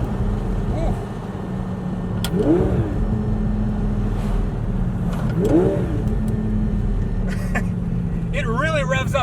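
A Lamborghini engine with turbos drones steadily while cruising in sixth gear, swelling under light throttle, with a voice speaking over the steady road noise.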